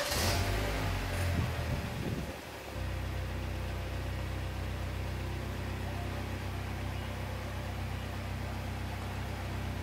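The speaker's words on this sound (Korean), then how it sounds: "그럼 시동 한번 걸어 볼까요?" A car engine turns over in a workshop during a sensor self-diagnosis check, cranking briefly in the first couple of seconds before settling into a steady, continuous idle drone that holds for the rest of the clip, with no talk.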